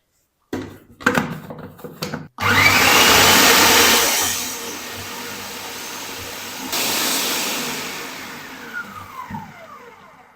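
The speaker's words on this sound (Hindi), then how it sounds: "एक चॉपर मशीन ले लेंगे, इसमें हम डाल देंगे छोटे छोटे टुकड़े करके इस तरीके, और इनको ना हम बिल्कुल बारीक पीस लेंगे।" An electric chopper grinds small bread pieces into fine crumbs, with a few clicks and short pulses first, then a loud sustained whirring that briefly eases and surges again before winding down.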